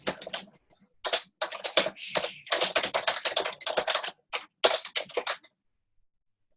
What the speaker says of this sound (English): I'm going to type this into the Facebook Live so you have it.